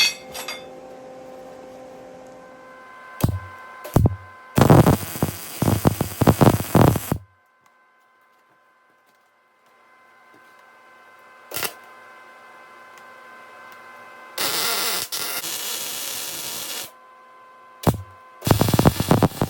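Tack welding a steel channel onto a scrap-built log arch: several bursts of harsh, crackling arc noise, each lasting a second or two, separated by sharp clicks and stretches of near silence, close and loud.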